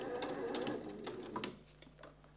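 Domestic sewing machine running a close, steady stitch along a summer dress seam for about a second and a half, then stopping, followed by a few faint clicks and handling taps.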